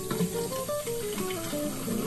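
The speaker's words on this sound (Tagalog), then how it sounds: "tubig dito at lilinisin ko to" Tap water runs steadily to rinse out a plastic bottle being cut into a makeshift flower vase, a continuous moderate splashing stream with faint clinks, heard close and alone.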